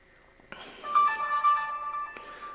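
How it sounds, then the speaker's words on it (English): A mobile phone rings indoors with a short electronic melody of bright, steady tones. It starts after a soft click and stays fairly faint, as if from across a room. "Don't mind that, that's my phone."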